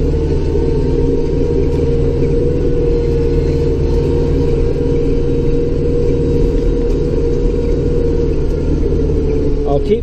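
Car driving on a snowy road in Bay Roberts, Newfoundland, heard from inside: a steady low engine rumble and road drone that continues evenly without breaks.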